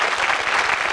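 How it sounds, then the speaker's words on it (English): Studio audience at a 1982 television game show breaking into applause, a dense, loud, continuous clatter of many hands clapping together at close range with no voices above it. "Give them a round of applause, ladies and gentlemen."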